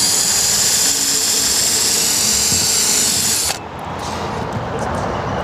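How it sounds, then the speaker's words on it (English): A power drill pre-drilling screw holes for an awning bracket on an RV whines loudly at a steady high pitch for several seconds, then cuts off abruptly, leaving a softer lower hum. "go ahead and pre-drill your holes for your screws"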